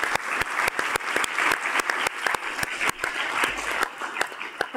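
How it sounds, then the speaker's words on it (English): Applause at a full city council meeting as people leave the chamber, a steady bed of many hands with sharp individual claps standing out, continuous and fairly loud throughout. "If we can give them a clap as they exit as well,"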